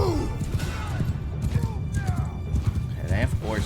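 Mounted horse archers' horses in Mount & Blade 2 Bannerlord battle: rapid overlapping hoofbeats thud steadily while horses neigh and whinny over a busy battlefield din, with shouted voices mixed in.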